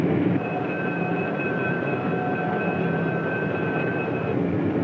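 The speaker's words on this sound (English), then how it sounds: "a small station where the train stops only for a moment" A 1950s American passenger train pulls into a small station, a loud, steady rumble of cars with a faint high squeal of brakes held throughout, and no voices.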